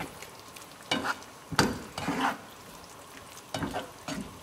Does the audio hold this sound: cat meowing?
no